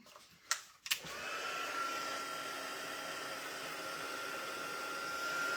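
Heat gun melting embossing powder on a card, a steady airy roar that starts after a couple of brief knocks and then runs unbroken close to the mic, with no voices.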